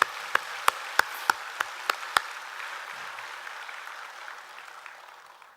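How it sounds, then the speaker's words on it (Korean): An audience at a Won Buddhist sermon gathering claps in about eight sharp, spaced hand claps. The claps ring out in a reverberant hall, then fade into quiet room tone. "격려의 박수 한번 부탁드립니다."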